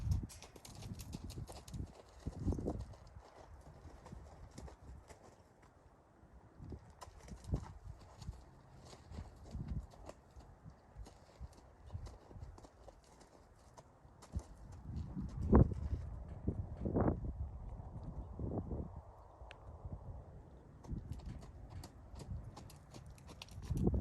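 A mustang mare canters on soft ground, her hoofbeats coming as soft, rhythmic thuds at a moderate distance, with faint background noise and no talking.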